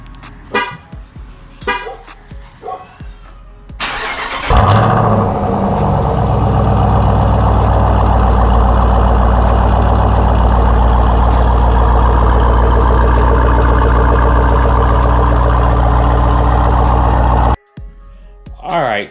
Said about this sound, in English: I'm actually going to move the Trackhawk back so you'll get a cold start really quick